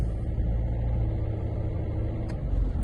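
A 2010 Citroen Berlingo XTR idles while steered to full lock on gravel, giving a steady low engine rumble throughout with no clicks or groans, close and continuous.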